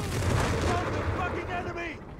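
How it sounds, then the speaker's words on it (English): A grenade goes off in Company of Heroes 3 amid a constant wash of battle noise, with Grenadiers, a mortar and a Sherman also in the fight, and a caster talking over it the whole time. "A little bit of a late grenade there"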